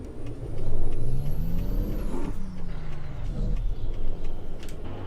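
In American Truck Simulator, cars pass by a waiting truck in a series of rising and falling whooshes over a steady low engine rumble, fairly loud and close, with no talking.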